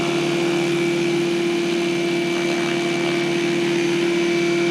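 A Red Goblin 500 RC helicopter spools up for the first time, a loud, steady whining motor and rotor drone with a sharp tonal hum, close and constant.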